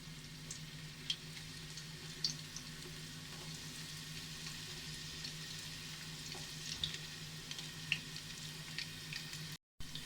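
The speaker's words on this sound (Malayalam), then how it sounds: "എണ്ണ ഇപ്പോൾ ചൂടായി തുടങ്ങിയിട്ടുണ്ട്. ഇതിലേക്ക് നമുക്ക് ആദ്യം അരിഞ്ഞു വെച്ചേക്കണ സവാള ചേർത്ത് കൊടുക്കാം" Chopped onions go into hot oil in a pan for an Indo-Chinese noodle dish, giving a quiet steady sizzle and frying crackle with a few light clicks of stirring.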